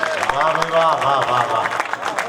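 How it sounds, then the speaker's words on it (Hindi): Audience applause breaks out at a Hindi kavi sammelan poetry recital, a spread of clapping heard under a voice that carries on speaking through most of it. "और इसी बात पर दे दो ताली"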